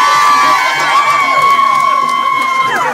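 Loud cheering at a costume contest, a steady roar of many voices with whoops and high shouts, some from children, running unbroken and close.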